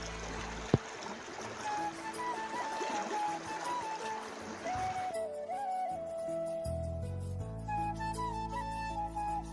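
River water flows and laps along the bank, a soft, continuous gurgling and trickling wash at a moderate distance, with a sharp knock near the start and shifting tones in the background.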